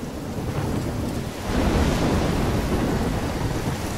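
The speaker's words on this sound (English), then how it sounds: "I'm trapped in a storm?" A thunderstorm in the video game Life Is Strange: a steady roar of wind and rain-like noise that swells louder halfway through and holds, with no voices.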